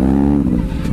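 A modified Yamaha R15 motorcycle engine revs loudly up close, a brief throaty burst of exhaust that holds steady and then dips slightly, with no talking over it.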